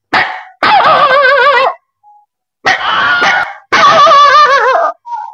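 A man imitates a dog barking, giving several drawn-out, wavering howl-like barks in three loud bursts separated by brief pauses.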